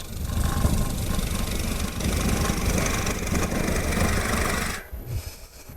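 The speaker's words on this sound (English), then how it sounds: "Now to remove this center part again, in a scraping cut, roll it over, push it down." Wood lathe gouge taking a scraping cut on a spinning piece, a dense, continuous rough scraping over the motor's hum that cuts off sharply near the end, leaving a quieter hum.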